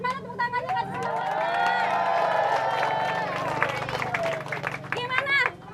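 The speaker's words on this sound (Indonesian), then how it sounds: "Mana tepuk tangannya kasih semangat" A street crowd at an Indonesian comedy game show claps and cheers steadily for several seconds, with voices mixed into the lively noise before it cuts off abruptly.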